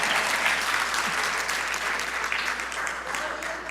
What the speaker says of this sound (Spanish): denle un aplauso a Anabela